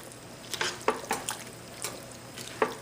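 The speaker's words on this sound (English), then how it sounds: "give this a good stir" Canned corn being stirred in a curry pan with coconut cream gives a quiet sizzle under scattered scraping and tapping from the utensil, with several distinct clinks over a few seconds.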